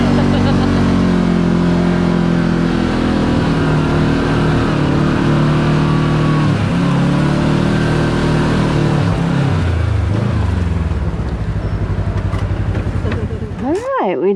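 A side-by-side UTV runs along a trail with a steady, loud engine drone that shifts pitch as it moves, carrying on throughout with some voices mixed in.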